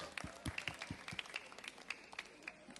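An audience at a public event in Indonesia gives a round of scattered hand claps that patter unevenly and moderately, with some crowd murmur and a voice underneath.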